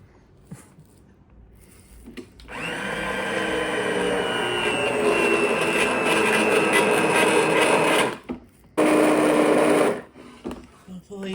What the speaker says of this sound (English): we're going to use the immersion blender.